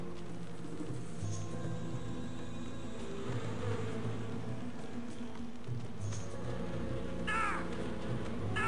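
A swarm of attacking bees drones in the video game Shadow of Rome, a steady insect buzz running throughout with occasional crow-like caws and game effects layered on top.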